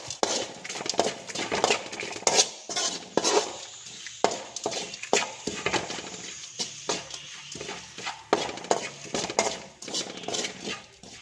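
A spicy village-style pappadam stir-fry being mixed in a pan with a utensil, producing close, rhythmic metallic scrapes and clinks in a steady run of strokes with no talking.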